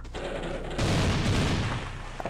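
Cannon fire in the video game Ferazel's Wand, a dense, noisy blast that swells midway and sustains as a loud rumbling burst before easing off.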